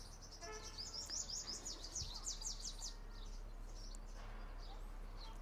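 Small birds chirp and twitter in quick bursts at a bird shelter, faint and somewhat distant over a low steady hum, with the calls thinning out in the second half.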